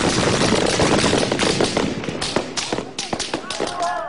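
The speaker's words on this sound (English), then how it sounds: "Then shots ring out." Gunfire breaks out at a street protest in Manama, Bahrain: a rapid run of sharp, cracking shots over a rough, noisy background with voices mixed in.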